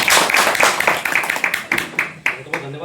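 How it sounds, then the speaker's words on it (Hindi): Congress party workers at a medical cell press event in Mathura clap for Dr. Azad Baig, a burst of close, fairly loud hand claps that thins out into a few scattered, separate claps. "मैं अपने कांग्रेस कार्यकर्ताओं से कहूंगा एक बार तालियां बजा दें डॉक्टर"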